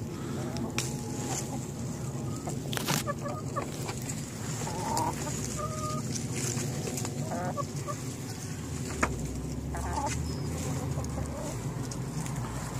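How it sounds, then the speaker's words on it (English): Chickens cluck and murmur nearby in a steady, scattered chorus, with a few sharper squawks and a low outdoor rumble beneath. "the chickens, as usual, you may hear them, they are following us everywhere"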